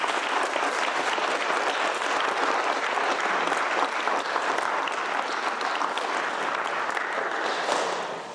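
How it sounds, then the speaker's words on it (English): An audience at an Eagle Scout Court of Honor breaks into a sustained round of applause, dense overlapping clapping that stays loud and steady before starting to taper at the end. "Let's give these two young men another round of applause"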